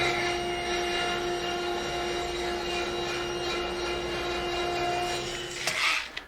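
A saw rips table leg blanks from glued-up, planed boards 1¼ inch thick, a loud sustained whine with strong steady tones that cuts off near the end as the blade spins down.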